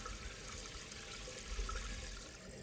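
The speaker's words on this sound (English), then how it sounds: "The tank should begin to fill." A toilet tank refilling after a flush valve replacement, a steady broadband hiss and rush of water running continuously at close range with no talk.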